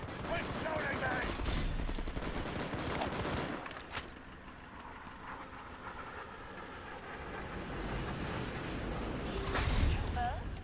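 Rapid bursts of gunfire ring out in a busy video game battle, dense and continuous for most of the stretch with sharper shots near the end, while voices talk over the fighting.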